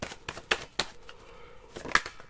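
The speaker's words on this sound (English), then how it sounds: "So let's have a quick shuffle." Tarot cards are shuffled by hand in a series of sharp riffling bursts and soft slaps, close and fairly quiet with no talking.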